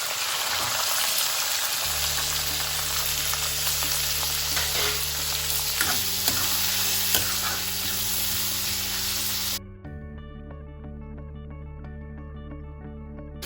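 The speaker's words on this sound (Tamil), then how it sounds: "சின்ன வெங்காயம், ஒரு தக்காளி, கருவேப்பிலை அதை அதில் போட்டு வதக்கணும்" Small shallots, a tomato and curry leaves sautéing in a pan for Chidambaram kosthu, giving a loud continuous sizzle and crackle with a steady low hum underneath that drops in level near the end.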